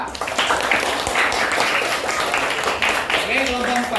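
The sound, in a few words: group clapping hands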